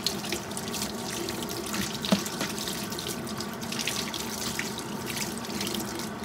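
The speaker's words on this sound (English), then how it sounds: "I just saturate my hair with cold water" Tap water runs steadily into a salon sink as cold water saturates hair for a rinse, a continuous close splashing hiss with no talking.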